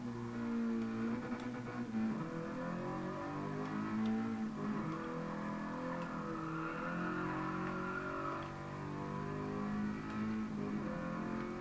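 Toyota GR86 engine in GT Sport, droning steadily with shifting pitch as it pulls through the gears, loud and continuous with no talking.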